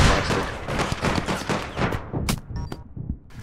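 Rapid gunfire from the online shooter game APB Reloaded, bursts of sharp shots fired in quick succession, loud and close at first, then thinning out into a few scattered shots and tones.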